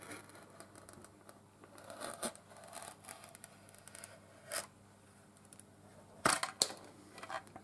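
A fresh craft blade trims thin plastic armour pieces for a Colonial Marine costume build, making faint, close scraping cuts with occasional sharper snaps and no talking.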